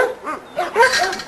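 A dog in a kennel yard gives a few short, close barks and yips, with some whimpering between them and no one talking.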